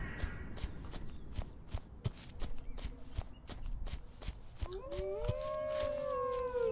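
Wolves howl in the horror farming game We Harvest Shadows, several rising, wavering howls swelling in overlapping layers after a run of steady footsteps crunching across the ground.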